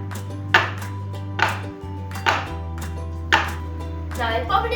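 A tin of eggless brownie batter is tapped against a surface, giving about five crisp, evenly spaced knocks roughly a second apart over a low steady hum.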